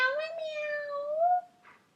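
A human voice imitating a cat, drawing out a long, close, tonal meow that bends upward near its end, followed by a brief faint breathy sound; no other talk alongside.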